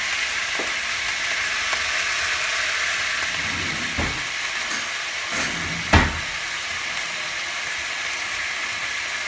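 Food frying in a pan during a green curry cook, a continuous moderate sizzle with a few sharp clicks and clatters of utensils against the pan, no one talking.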